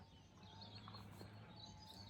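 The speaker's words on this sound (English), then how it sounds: "some noise in the background, but it's mainly birds here" Faint bird chirps and tweets sound sparsely against a quiet outdoor background hum, small and distant.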